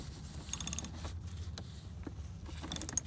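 Clicking ratchet-like turns and faint metallic creaks come from snugging down a car battery terminal, two short bursts of quick clicks separated by quieter handling, close and without speech.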